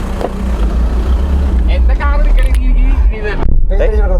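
A 2003 Skoda Octavia TDI diesel car drives with a deep, steady engine rumble inside the cabin while a person talks over it throughout.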